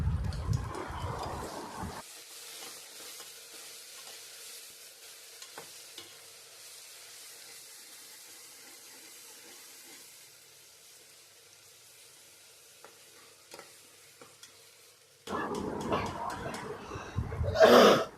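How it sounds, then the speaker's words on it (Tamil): Onions, green chili, coriander and ginger garlic paste sautéing for a bottle gourd biryani, a faint steady sizzle with occasional stirring clatter, louder stirring at the start and end, and a brief throat clear. "அது பச்சை மிளகாய், கொத்தமல்லி, இஞ்சி பூண்டு பேஸ்ட்டு எல்லாம் போட்டு நல்லா வதக்குங்க"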